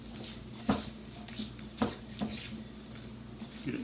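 Rutabaga fries being tossed with oil and seasoning salt in a bowl, with irregular close clinks and scrapes of a utensil against the dish over a low steady hum.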